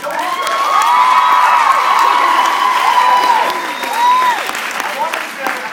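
An audience at a John Green Q&A event in Pittsburgh breaks into sustained applause mixed with cheering and whoops, swelling loudly, holding steady, then tapering near the end.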